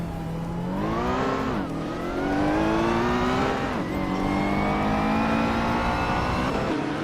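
A 1984 Ferrari 288 GT Evoluzione engine revs hard in a racing video game, rising in pitch through repeated gear shifts, loud and continuous with brief dips between each climb.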